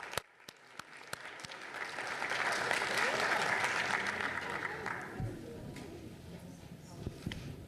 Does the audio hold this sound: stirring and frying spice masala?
no